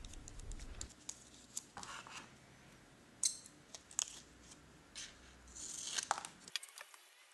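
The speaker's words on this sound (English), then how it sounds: "I then tape this onto the aluminum foil tape and I just have to cut along the template border." Scissors cut aluminum foil tape along a paper template with soft, close snips and crinkles of the foil, quiet and scattered over a few seconds before falling silent.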